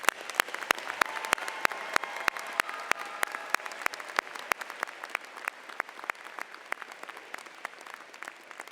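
Applause at a University of Michigan-Flint December commencement ceremony: a steady crowd clapping, dense and continuous, with sharp individual claps standing out over the wash for the whole stretch.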